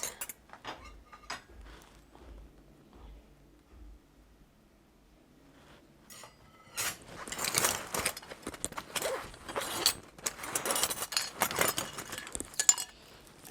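Metal butter knives and cutlery clink and rattle against one another, light sparse taps at first, then a busier burst of bright jangling and handling clatter in the second half, close and fairly quiet.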